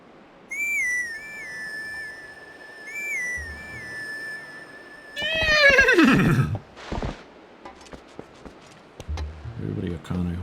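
A horse in Zelda: Twilight Princess lets out a loud, near whinny that falls in pitch, after a run of repeated whistled tones, with snorts and a few clip-clop hoofbeats following.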